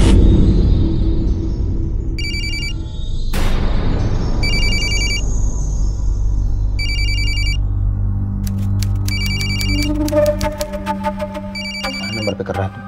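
Telephone ringing in bursts of electronic trills, several repeated rings separated by pauses, loud and close over a low rumbling background with a sharp boom early on, followed by denser fast tones near the end.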